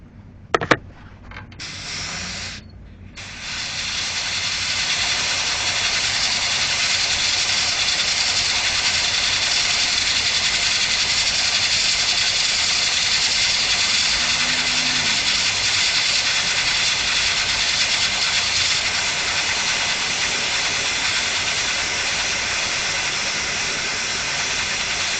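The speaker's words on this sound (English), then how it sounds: "and we'll get to blow drying." A blow dryer blasts water off a freshly cleaned bicycle chain, a loud steady rushing roar that starts after a few brief bumps and holds at constant strength for the rest of the stretch, with no talking.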